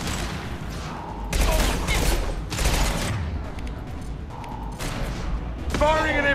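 Gunfire and explosive impacts in the video game Mass Effect 2, bursts of shots and booming hits in repeated clusters, fairly loud, mixed with a player's speech.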